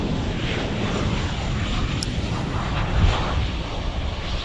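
A Japan Airlines Boeing 777 airliner passes at DFW Airport, its broad, steady jet roar loud and close throughout, swelling slightly near the end.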